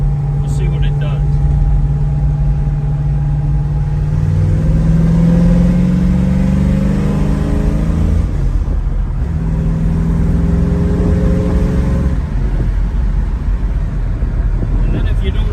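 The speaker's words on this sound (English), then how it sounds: "I'll step on it and kick the other 2 barrels of the 4-barrel carburetor in." A 1967 Ford Mustang hardtop with a 302 V8, four-barrel carburetor and five-speed gearbox pulls hard in third gear, its engine drone rising steadily in pitch, dipping at a shift near eight seconds, then climbing again under wind noise.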